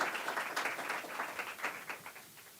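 An audience applauds panelists at a food-as-medicine healthcare event, a dense burst of hand clapping that fades toward the end.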